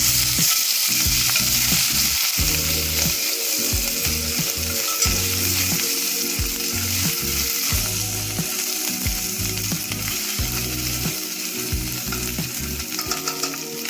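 Ginger garlic paste fries in hot tadka oil for Maggi noodles, a loud continuous sizzle with crackling bursts and stirring scrapes that runs without a break and without speech.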